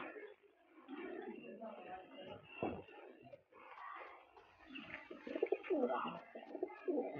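Fancy pigeons on a farm in Pakistan coo softly in low, throaty bursts, close by and fairly quiet, while someone talks over them.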